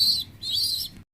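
German Shield pigeons with chicks: two close, high, thin chirping calls in quick succession, then abrupt silence.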